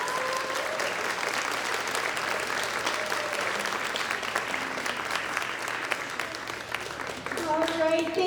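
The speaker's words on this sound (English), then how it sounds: "Let's clap for them. Let's hear it." Audience applause for contestants at a Little Miss pageant: continuous, even clapping from a sizable crowd fills the room throughout, with a few cheers and voices rising near the end.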